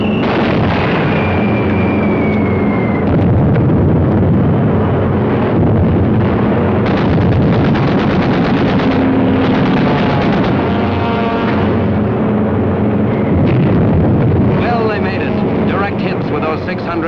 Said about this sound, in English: With those 600-pounders of TNT blowing up right in Hirohito's face.